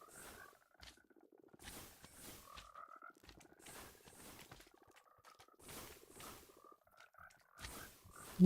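Frogs croak in modded Minecraft (All the Mods 10), soft repeated croaks and brief bursts recurring at intervals against near silence, with a sharp louder hit at the very end.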